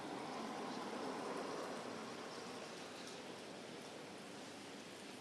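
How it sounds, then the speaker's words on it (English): Heavy rain falling outdoors near a flooded playing field during a storm, a steady dense hiss that stays even and continuous, with no voices. "as you can see in the background, a lot of rain coming in again."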